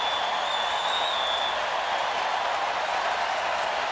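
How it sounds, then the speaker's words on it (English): A baseball crowd at Minute Maid Park roars steadily, a broad continuous wash of cheering and applause heard from within the stands, with no distinct voice rising above it. "Crowd making noise"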